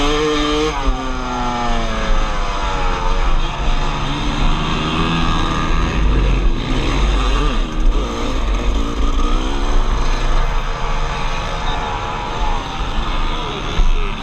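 A 2002 Kawasaki KX250 two-stroke dirt bike racing on a GNCC trail, its engine buzzing loud and close with constant revving rises and falls, other bikes blending in the background.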